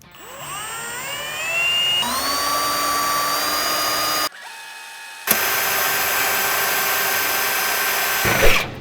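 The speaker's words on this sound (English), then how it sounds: "you're just gonna go ahead and drill" A step drill bores into a steel car hood, its whine rising in pitch as it spins up, grinding steadily, stopping briefly, then cutting again close and loud before a final clunk.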